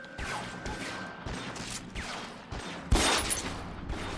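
Gunfire in the video game L.A. Noire, several shots in a short burst with a sharp, loud report near the end, set over steady game noise and background sound effects.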